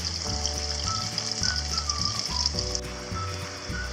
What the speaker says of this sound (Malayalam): നമുക്ക് ആദ്യം ചിപ്സ് ഉണ്ടാക്കാൻ വേണ്ടി ഞാൻ ഇട്ടിട്ടുണ്ട്.